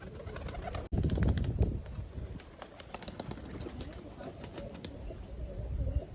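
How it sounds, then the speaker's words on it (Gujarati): A new Siraji pigeon beats its wings in a sudden burst of flapping, followed by a run of short flutters and scuffling from nearby birds as someone talks softly in the background. "પાંખું કોરી કરવાની કોશિશ કરે છે કે ભાગવાની કરે છે"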